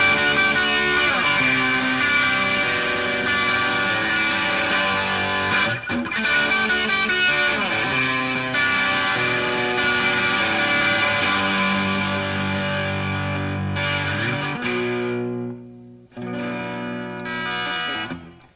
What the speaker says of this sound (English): We've got a little amplifier at the side here that's kind of got a lot of distortion on it